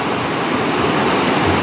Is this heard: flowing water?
yes